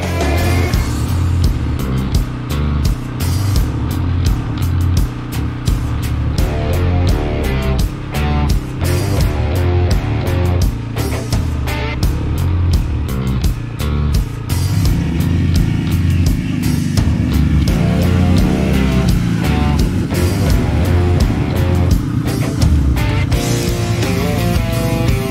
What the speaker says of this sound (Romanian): Ca să ajungem în rezervație, trebuie să mergem cu ATV-ul.